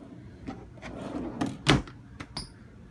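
Deep drawers of an entertainment center aboard a Neptunus 65 yacht slide and knock shut several times in quick, uneven succession, close up, with one louder thump near the middle.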